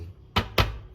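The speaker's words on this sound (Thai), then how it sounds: "เรามาเริ่มทำกันเลยครับ โดยการตอกไข่" Two sharp cracking taps close together as an egg is cracked, crisp and close, with a faint hum underneath and no voices.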